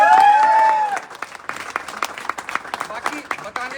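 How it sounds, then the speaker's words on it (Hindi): A crowd breaks into loud applause at a motivational gathering, a burst of dense clapping that starts strong and continues with scattered claps, alongside a held tone at the start. "तो मैं चाहता हूं जोरदार तालियां होनी चाहिए।"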